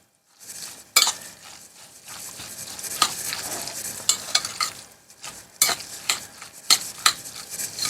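Beetroot salad with pickled cucumber gets mixed in a bowl, with irregular wet squelching and sharp clinks of a utensil against the dish, moderately quiet and close, without speech.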